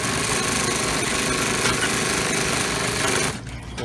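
Industrial sewing machine stitching binding onto the tops of bags in a factory, a steady loud continuous mechanical whirr that drops off abruptly near the end.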